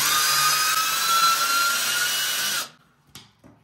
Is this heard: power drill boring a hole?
yes